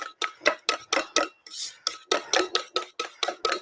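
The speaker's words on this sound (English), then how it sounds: "so just keep whisking" A whisk beats pancake batter by hand in a bowl, a steady rhythm of sharp scraping strokes about three per second, close and clear with no talking.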